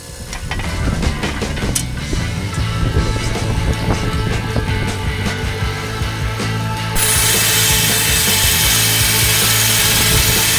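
A slow saw blade cutting through rock, sawing grinding steadily and loudly throughout, with a harsher, brighter rasp taking over partway through; no talking.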